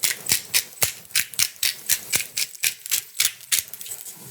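Pepper ground from a mill over prosciutto-wrapped figs stuffed with blue cheese, with a rapid run of close, crisp rhythmic cracking clicks, evenly spaced and alone.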